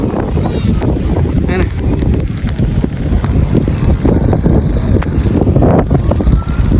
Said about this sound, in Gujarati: જો કેટલો બધો પવન આવે